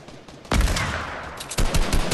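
Video game gunfire between players: two loud bursts of rapid automatic shots, the first starting abruptly and running about a second, the second following after a short pause.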